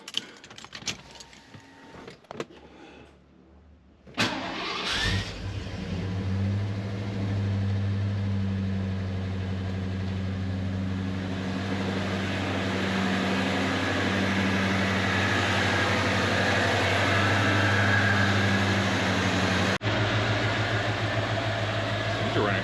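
A Ford Bronco engine cranks and catches after a few seconds of rattling and clicking, then settles into a steady, smooth, loud idle with a low rumble until it cuts off near the end.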